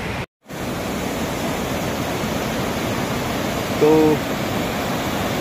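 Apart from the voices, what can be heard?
swollen Kali river rushing after heavy rain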